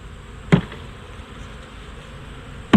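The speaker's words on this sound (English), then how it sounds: "I'm gonna get the bees off this cover here, down inside. You can see lots of bees here." Honeybees on a hive cover give off a steady, faint buzzing hum, broken by two sharp knocks or taps.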